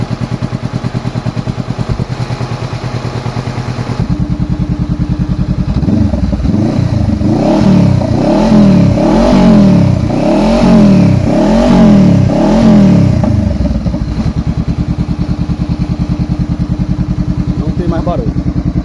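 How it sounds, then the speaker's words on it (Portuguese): A 2014 Honda CB500F motorcycle engine, freshly repaired, idles close by and then revs repeatedly in a rhythmic series of throttle blips before settling back to a steady idle, with a cooling fan whirring underneath. "Vou dar na partida pra vocês verem que o motor não tem mais barulho."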